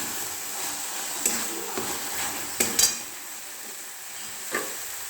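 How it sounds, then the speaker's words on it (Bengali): Poppy seed paste with onion greens sizzles in oil in a pan, a steady hiss under occasional metal clinks and scrapes as a spatula stirs it. "পোস্ত দিয়ে নাড়ছি, নাড়ি।"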